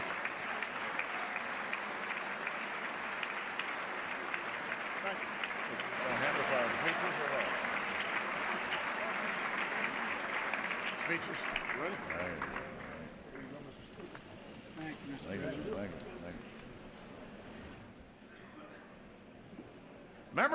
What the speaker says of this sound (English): The president will be introduced and we'll have another round of applause.